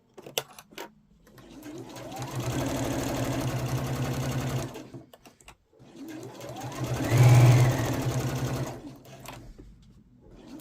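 A sewing machine stitches the seam of a zipper pouch in two long continuous runs, each starting and stopping with brief pauses between, loud and close with no talking.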